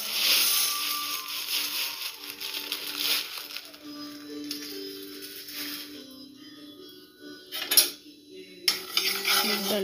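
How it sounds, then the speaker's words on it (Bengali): Moong dal dry-roasts in an empty kadai, with a spatula scraping and rattling the lentils against the metal in irregular bursts, up close and fairly loud. "প্রথমে শুকনো কড়াইতে আমি মুগ ডালটা হালকা করে ভেজে নেব।"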